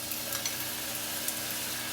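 Pad Thai noodles stirred together with sauce in a hot pan for one portion, a steady soft sizzle with faint scraping throughout, no talking.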